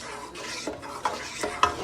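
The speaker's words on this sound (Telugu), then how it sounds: "మనం అడగంటకుండా తిప్పుకుంటూనే ఉండాలి కంటిన్యూస్గా" A yogurt gravy for egg curry is stirred in a pan over the flame, soft scraping strokes with a few light clinks against a low sizzle, close and steady.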